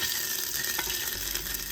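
Ginger sizzles in hot oil with added water in a pan for Singaporean Ramadan porridge, a steady close crackling hiss with occasional brief pops of stirring, no voices.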